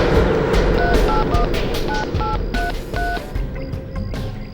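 Push-button telephone keypad tones beep in quick irregular clusters as a number is dialed, a dozen or so short bright tones over a dull background hum of a street-side phone booth.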